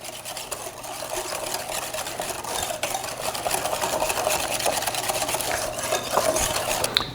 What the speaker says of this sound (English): add the egg and egg yolk and whisk that into a homogeneous mixture